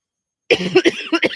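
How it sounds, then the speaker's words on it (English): A burst of several rough coughs follows a moment of silence, close and fairly loud, with uneven spacing. "because I'm coughing"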